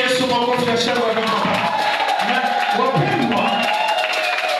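Church congregation applauding and cheering during a sermon, rapid clapping mixed with crowd voices and a sung or shouted line over it, lively and close throughout.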